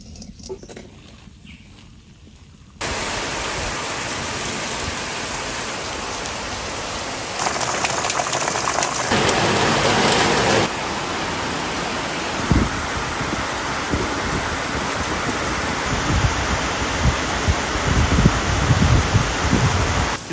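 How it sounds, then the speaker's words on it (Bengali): Torrential monsoon downpour drumming steadily on surfaces, a dense continuous hiss that swells louder midway after a quieter opening, with occasional heavier splashes and patter up close. "সেই যাকে বলে সেই মুসলধারে বৃষ্টি বিশাল জোরে বৃষ্টি হচ্ছে"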